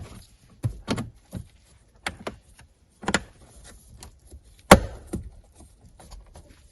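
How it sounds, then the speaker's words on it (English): Plastic cabin air filter access cover on a 2017-2024 Chrysler Pacifica being pressed home, several sharp close clicks and snaps from its locking tabs scattered across a quiet background, one louder snap near the end. "you've got the little locking tabs, which again will shift in place and click and lock"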